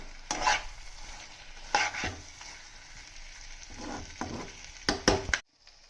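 Prawns fry on a low flame in a pan, a steady soft sizzle broken by several scraping stir strokes close by, with a louder cluster of stirring near the end before the sizzle cuts off.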